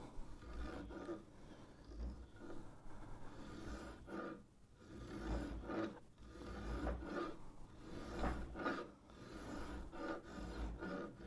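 A hand tool shaves guitar wood against the grain in a workshop, giving close, uneven rasping strokes with a rough chattering texture, repeated in bursts with short pauses between them.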